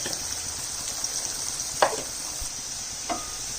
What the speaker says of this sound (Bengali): এবার আলুটা ভেজে নিচ্ছি।